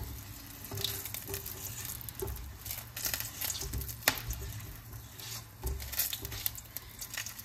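Onion dropped into hot oil with whole spices in a home kitchen in South Africa, giving a steady close sizzle with crackling pops and clatters throughout.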